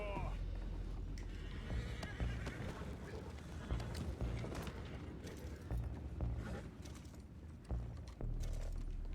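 Horses neigh and whinny amid a busy Red Dead Redemption II game scene, with hoof clatter, creaking wood and muffled voices underneath.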